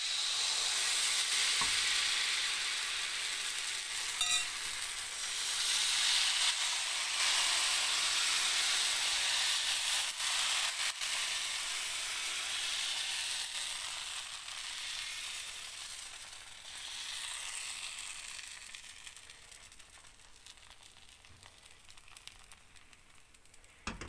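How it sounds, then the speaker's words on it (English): Ragi appam batter sizzling in an appam pan, a long, soft hissing sizzle that holds steady and then gradually fades as the batter cooks, with a few faint clinks and no speech. "So I'm preparing with this appam pan."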